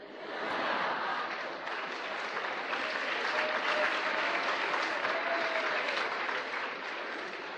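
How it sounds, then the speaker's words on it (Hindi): An audience at a lecture bursts into applause, a dense, sustained clapping that rises quickly and holds for several seconds, with faint crowd murmur beneath. "जिस पे ताली नहीं बजानी चाहिए उस पे ताली बजाते हैं"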